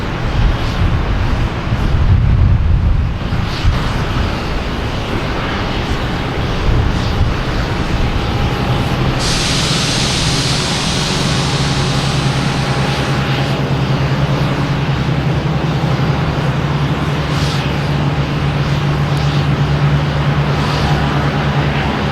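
A United airliner inbound from LAX drones steadily as it arrives at Boston Logan, its engine roar holding level and filling the scene, with wind buffeting the microphone and rumbling traffic underneath.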